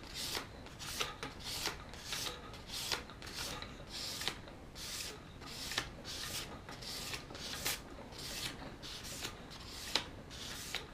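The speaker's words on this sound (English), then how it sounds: "This is just regular standard sandpaper you can buy" Razor blade stroked back and forth over ordinary hardware-store sandpaper, giving a steady run of short, bright rasping scrapes in an even rhythm, close and moderately quiet with no voices.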